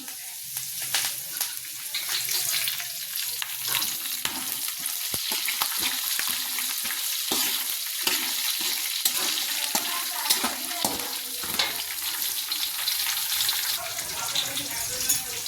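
Curry leaves sizzle and crackle in a little hot oil for a puffed rice mandakki oggarane tempering. The spattering is loud and close, with irregular pops and stirring clatter throughout.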